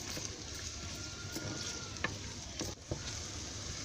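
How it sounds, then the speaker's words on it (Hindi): Onion frying in hot oil, a constant close sizzle with a few light stirring clicks and scrapes, quiet and steady without talk. "ऑयल हमारा गर्म हो गया है। अब हम डालते हैं 1 अदद प्याज।"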